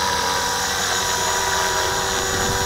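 A Walkera V450D01 RC helicopter flying in a breezy outdoor setting, its rotor and motor giving a steady, loud, continuous whine and buzz throughout, close by and uninterrupted.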